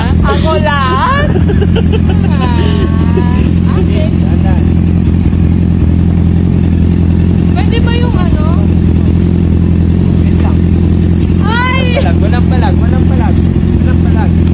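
A motorcycle engine runs steadily with a low, continuous drone and occasional revving, close by, while people talk over it during a riding lesson.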